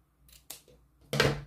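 Scissors snip ribbon while a braided tiara with bows is made, two or three crisp close cuts, the last one loudest.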